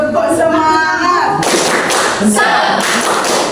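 Classroom of students doing a rhythmic spirit clap, sharp claps in a steady burst, loud and close, with voices mixed in at the start.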